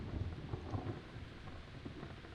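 Rain falls in Kingdom Come: Deliverance with low rumbling thunder underneath, a steady moderate wash of rainfall and distant storm murmur continuing throughout, with no one speaking.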